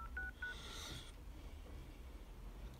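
Soft electronic keypad beeps from a mobile phone's speaker, a few short tones in quick succession followed by a brief brighter chirp, then quiet background hiss.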